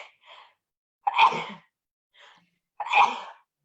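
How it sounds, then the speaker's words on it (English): A person sneezes twice, each preceded by short sharp intake breaths, close and loud, with brief silences between. "I'm going to sneeze."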